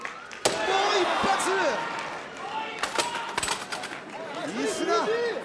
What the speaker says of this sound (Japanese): パイプ椅子がひん曲がりました。